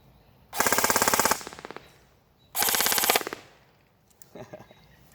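Elite Force M4 CQB airsoft gun firing BBs at a target: two rapid full-auto bursts of sharp mechanical clatter, each under a second long, followed by a few faint impacts, close and fairly loud.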